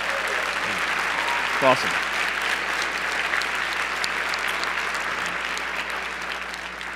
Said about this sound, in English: Yes, that's applause.